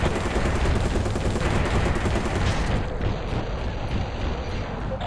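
Missiles firing in the video game Battlezone: Combat Commander, a dense, loud barrage of rapid launch blasts and booms that rolls on continuously throughout.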